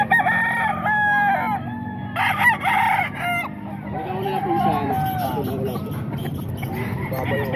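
Roosters crow repeatedly and chickens cluck at a busy market, the birds loud and close amid a background murmur of people talking.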